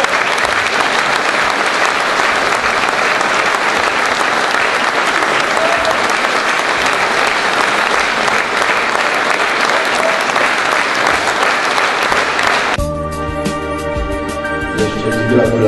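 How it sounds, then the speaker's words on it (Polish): Loud, full audience applause at a 75th-birthday gala for Stanisław Oślizło, new co-owner of the Górnik Zabrze club, a thick continuous roar of clapping that thins near the end as music comes in. "Brawa!"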